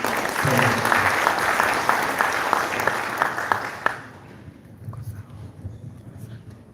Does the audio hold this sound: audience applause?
yes